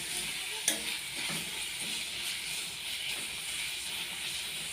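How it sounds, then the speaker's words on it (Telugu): Green chillies and curry leaves fry with onions in a pan while a spoon stirs them, giving a steady close sizzle with a few faint scraping strokes. "పచ్చిమిర్చి వేసుకున్నాము. కరివేపాకు వేసుకున్నాము. వీటిని కలిపేసుకున్నాం."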